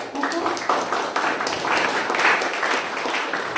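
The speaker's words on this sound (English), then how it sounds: "let's have a round of applause for her" A club meeting audience applauds the Toastmaster of the Month, giving a steady, dense wash of clapping that carries on evenly throughout at moderate loudness.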